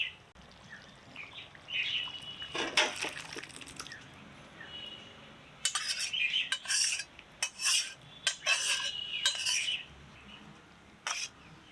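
A metal spoon clinks and scrapes against a pot and bowl as cooked paneer curry with squash, potato and cashew paste is transferred, a series of sharp, irregular taps and scrapes over a quiet background.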